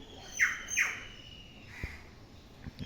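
A bird resembling a bulbul, a little smaller, gives two harsh, close squawking calls in quick succession, followed by a fainter call, over quiet background.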